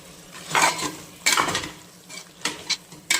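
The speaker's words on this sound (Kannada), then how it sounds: "ಉಳಿದಿರುವಂತಹ ಮಸಾಲೆನೂ ಹಾಕಿ ಫ್ರೈ ಮಾಡ್ಕೊಳ್ತಾ ಇದ್ದೀನಿ." Masala spices fry in a pan for an oil-cooked brinjal dish, with a soft sizzle under several sharp metal scrapes and clinks of a spatula stirring against the pan, close up.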